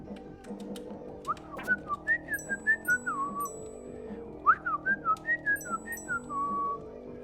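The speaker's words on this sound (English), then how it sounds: "I can't whistle that well." A person whistles a wavering, slightly unsteady melody of short rising and falling notes in two phrases, close and fairly clear, with faint high electronic beeps in the background.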